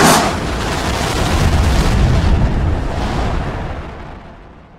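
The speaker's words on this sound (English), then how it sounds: "Wow, we launched the rocket into space." A rocket launch sound effect gives a loud, broad, explosive roar that bursts out at once and then rumbles steadily before fading away over a few seconds.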